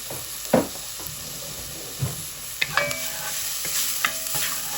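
Spaghetti sauce ingredients sizzling in a pan while being stirred, a steady frying hiss broken by a few scraping knocks of the utensil against the pan, close up with no talking.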